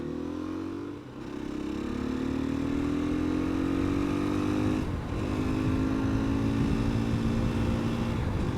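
A 2020 KTM 350 EXC-F off-road motorcycle being ridden gives a steady, close engine drone whose pitch climbs slowly, with brief dips near the start and midway. No one speaks.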